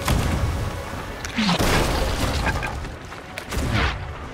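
Ship cannons firing in the pirate video game Sea of Thieves during a naval battle: heavy booms, one after another, over a dense wash of game noise with no voices.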